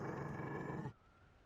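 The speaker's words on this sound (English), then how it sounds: "You found a dog?" A Mabari war dog in Dragon Age: Inquisition growls in a low, steady rumble for about a second, then it cuts off abruptly into quiet background.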